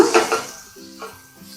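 A utensil scrapes and clinks against a pan while half-inch pieces of cut beans are stirred together with spices, a brief close-up clatter that fades into softer rustling.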